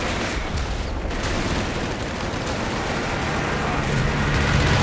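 A strafing run in Company of Heroes 3 produces a continuous roar of rapid gunfire and impacts, dense and loud from start to finish, swelling slightly toward the end.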